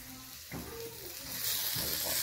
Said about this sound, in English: I'm going to fry the other one.